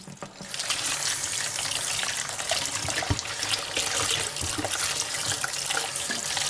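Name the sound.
rinsing watermelon seeds under running tap water at the sink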